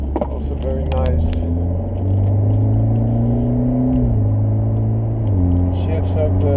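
A tuned Stage 1 BMW 330e with an 8-speed ZF transmission accelerates out of a roundabout, its engine drone rising steadily and dropping cleanly at each upshift, heard from inside the car with talk over it.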